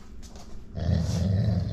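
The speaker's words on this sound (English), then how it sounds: "Are you growling at it?" A dog growls at lemons, a low, rumbling, sustained snarl that swells in after a quieter start and continues steadily, close by and unaccompanied by talk.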